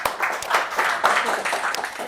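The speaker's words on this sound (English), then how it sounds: "let's have a big hand for that" Audience clapping together at a Toastmasters club meeting: a steady patter of many hands throughout, moderately loud in a room, with a voice faintly present.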